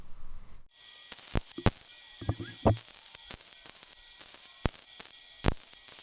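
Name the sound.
welding grade 8 bolt heads to weld-on shackles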